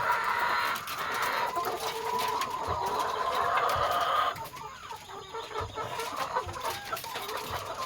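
Hens in an egg-laying coop cluck and murmur continuously, with a dense chorus of bird calls and a crow-like call, loud and close at first and then thinner and more scattered.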